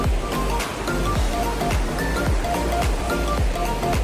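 River flowing just beyond a rice field, a steady dense rush of water with constant broadband splashing and low churning, close and loud with no voices.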